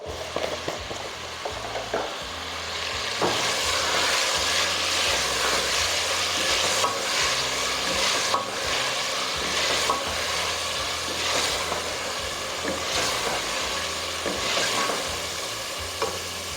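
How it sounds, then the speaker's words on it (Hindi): Green peas for pulao fry in a pan with salt, a continuous crackling sizzle broken by repeated spatula scrapes and stirring clatter, close and fairly loud, with no talking. "मटर बहुत अच्छे से फ्राई कर लिए मैंने।"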